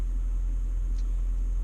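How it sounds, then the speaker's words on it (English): A diesel truck engine idles nearby, a steady low rumble with a faint hum above it that stays even and unbroken throughout the short stretch, with no voices. "I don't know if you guys can hear me very well because I got my diesel truck running"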